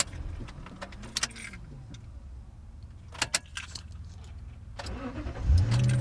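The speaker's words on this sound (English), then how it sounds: "I'll just turn off the car and start it again" A car engine cranks and catches near the end, following a stretch of keys jangling and interior clicks, with the start rising to a low rumble close by; no one speaks.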